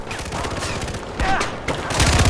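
Enemies shooting in Far Cry 4 across a snowy valley, dense overlapping gunfire bursts crackling continuously, loud and close, with game effects layered underneath.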